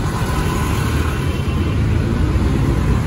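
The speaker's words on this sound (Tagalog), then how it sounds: "Ito yung UP Express truck diesel ito eh." Diesel UP Express truck engine on a road, a loud steady low rumble with broadband road noise that holds throughout as the vehicle passes close by.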